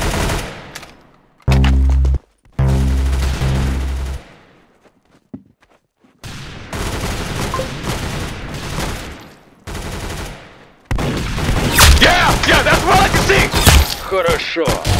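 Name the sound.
gunfire in the Roblox video game Arsenal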